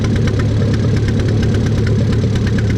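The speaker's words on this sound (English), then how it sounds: "the tractor's still going" A pulling tractor's engine runs loud and steady at a fall tractor pull in Lynden, Washington, a dense rumbling roar with rapid knocking pulses throughout and no voices.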